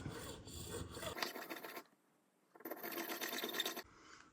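A fine number 10 gauge guitar nut file rasping a slot into a brass nut for a Fodera bass, close and fairly soft, in two bursts of back-and-forth strokes separated by a brief pause.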